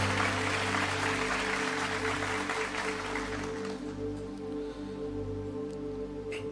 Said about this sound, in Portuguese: Quem crê nisso, aplauda o nome do Senhor.